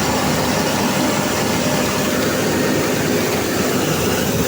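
Rice mill separator machine running after the polisher, a dense, steady mechanical roar and hum with no pauses.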